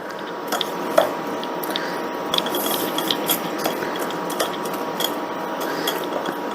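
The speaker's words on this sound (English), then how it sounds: "The harder you push, the more you're going to get through the sieve." Cooked vegetables pressed through a sieve while making Italian pastina soup give close, continuous wet scraping and squishing rubs with small irregular clicks, with no talking.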